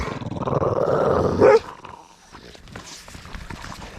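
A bloodhound growls low and steadily, close by, for about a second and a half and rising at the end. Quieter rustling and shuffling follow outdoors in snow.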